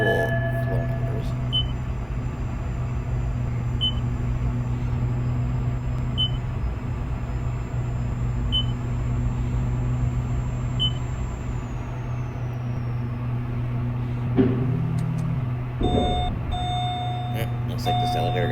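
Smooth, steady hum of a ThyssenKrupp machine-room-less traction elevator in a city centre office building, carrying on through the ride with a few faint high beeps at floor passes and a soft chime near the end.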